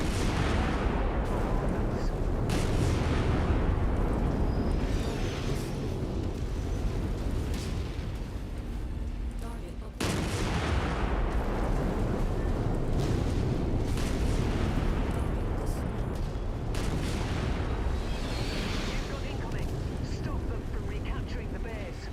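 Artillery fire and explosions boom again and again in a war video game. Dense rumbling blasts fill the scene continuously and loudly, with voices talking under the din.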